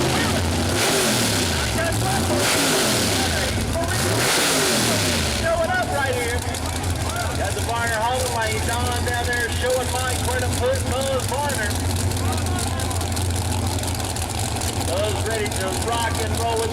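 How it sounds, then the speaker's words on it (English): Nitrous Pro Mod drag racing cars at Mooresville Dragway rev loudly as their nitrous lines are purged, with repeated rising and falling engine blips first, then a sustained rumbling drone under continuous announcer talk. "as they get ready to line the cars up, they turn on the nitrous system, purge the line"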